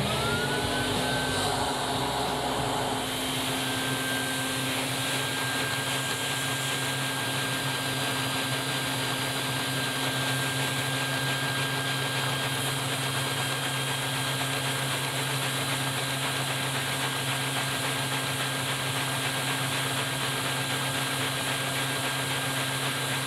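A LEGO vacuum-powered inline-four pushrod engine with a cross-plane crankshaft runs continuously, a steady mechanical hum with a constant pitched whine and airy hiss, idling nonstop at close range.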